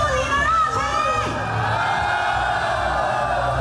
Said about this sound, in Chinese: 民众高声疾呼：“我在乎，要守护高雄。”